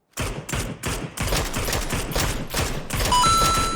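Gunfire from a hill in PUBG comes as loud, rapid bursts of automatic shots, first in short separated volleys and then a sustained stream, with no voices over it.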